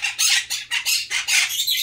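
A pet budgie, an Indian ringneck parrot and cockatiels squawk loudly at close range in a home, with about six shrill, harsh calls coming in quick rhythmic succession and no talking.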